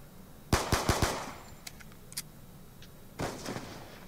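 Video game gunfire, a quick burst of several sharp shots followed by scattered single cracks and a second short burst, loud and close with no talk.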